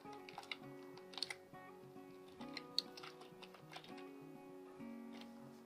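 Quiet, close typing on a computer keyboard while writing HTML code, with irregular bursts of soft keystrokes and a few sharper clicks.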